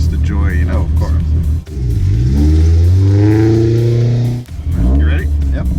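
A Mazda Miata with a high-horsepower naturally aspirated engine revs and accelerates on a race track, its loud, close engine note climbing steadily through the gears for several seconds before easing off, with brief lifts at the start and end.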